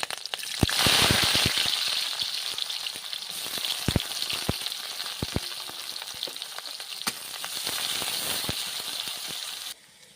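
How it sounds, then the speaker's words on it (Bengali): Green chillies and onion sizzle in hot mustard oil in a village kitchen pan, a steady bright frying hiss punctuated by sharp clicks and scrapes of stirring, ending abruptly. "কড়াই গরম হয়ে গেছে, দিয়ে দেব সরষের তেল।"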